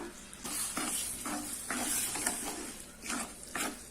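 Wet tomato puree pours into a hot pan and sizzles loudly, the hiss swelling and fading in waves with occasional scraping in the background.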